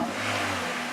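A Toyota Celica engine with a 4AG-type block, fresh oil, new spark plugs and a new intake, revving briefly with a loud, close, throaty intake roar and no voices.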